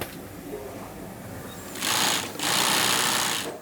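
Industrial sewing machine zigzag-stitching the heel backs of ballet shoes, two loud rapid buzzing runs of stitching separated by a short pause, following a quiet hum.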